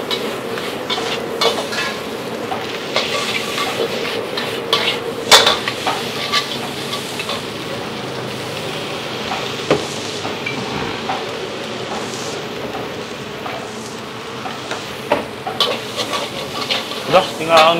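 A pan is shaken during cooking, giving a continuous sizzle and frying hiss with scraping clatters and irregular sharp knocks. Faint voices sit underneath.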